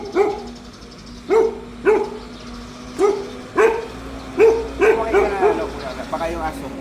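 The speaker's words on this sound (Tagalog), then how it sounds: "May aso." A dog barks repeatedly in short sharp bursts, some in quick pairs, fairly close, over a steady low hum in the background.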